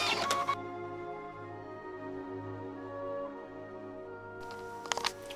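An embroidery machine stitches the placement line for fabric triangles in a hoop, a steady mechanical hum with tonal whirring running almost continuously, bracketed by brief clicks and handling noise at the start and end.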